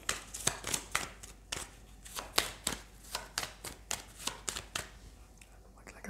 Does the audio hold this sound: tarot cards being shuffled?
yes